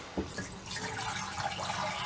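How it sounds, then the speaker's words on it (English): Liquid poured into a shower drain while winterizing a cottage, a steady close splashing trickle that runs continuously without pause. "And then I'm going to pour some into the shower drain."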